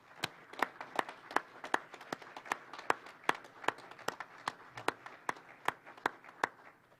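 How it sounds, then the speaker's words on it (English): Audience clapping at a faculty and staff awards and retirement reception, sparse and fairly quiet, with distinct individual claps in a steady, loose rhythm rather than a dense ovation. "Let's give them a round of applause."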